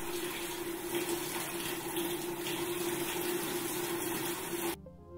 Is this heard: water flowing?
yes